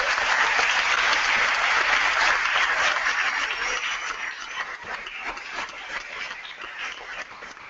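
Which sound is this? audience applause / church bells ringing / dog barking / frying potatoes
audience applause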